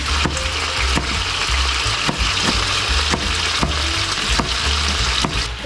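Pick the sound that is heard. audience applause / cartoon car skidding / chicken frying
chicken frying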